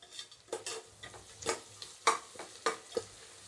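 A spoon stirs tomato bath ingredients as they fry in a pan, with a soft sizzle under a series of quick, close scraping strokes at an irregular rhythm.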